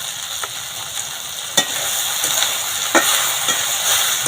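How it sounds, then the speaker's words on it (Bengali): Chalta pickle being stirred with salt and chili powder, a steady hissing sizzle broken by a few distinct spoon scrapes and knocks against the pan, close and with no talking. "লবণটা দিয়ে ভালো করে নাড়াচাড়া করে নেব লঙ্কা গুঁড়ো"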